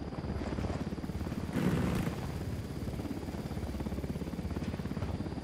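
A helicopter in the video game Ghost Recon Wildlands makes a continuous close, loud rotor thrum, with steady rapid blade chop over a broad rumbling roar, a brief louder swell partway through.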